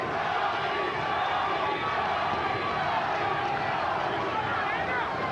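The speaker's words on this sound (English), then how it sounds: "Crowd chanting Gatti, Gatti, Gatti." Boxing arena crowd at the 1998 Gatti versus Manfredy fight roars and chants Gatti's name in a dense, continuous wall of voices, loud and sustained throughout.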